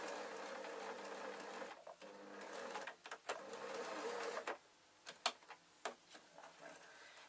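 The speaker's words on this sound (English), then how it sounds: "I'm going to do a line of stitches in between those 2" A sewing machine stitches a line of gossamer fabric, a steady close whirring run that stops and starts in short bursts toward the end.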